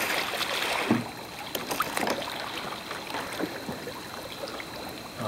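A kayak rolling in an indoor pool produces sloshing, splashing and dripping water, with a stronger surge near the start and then quieter lapping and trickles.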